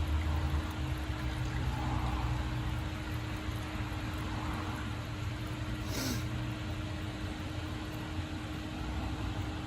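Coolant poured into a car engine: a steady hissing, trickling flow runs unbroken for the whole stretch, moderately loud against a faint low hum, without speech.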